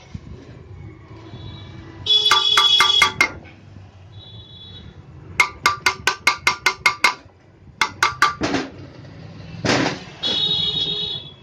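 A hammer knocks a slipped bearing out of an exhaust fan motor, with quick rhythmic bursts of sharp metallic taps separated by brief pauses and short ringing tones.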